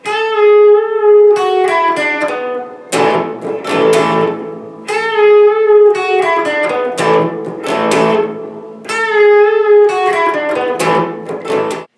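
An acoustic-style guitar riff from the Grateful Dead's Jack Straw, picked notes and ringing chords repeating in a cycle three times, bright and close, with no talking.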